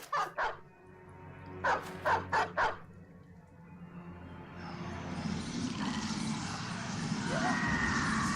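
War dogs in the video game Battle Brothers bark in short bursts, one double bark and then a quick run of four, followed by a rising roar of in-game combat noise.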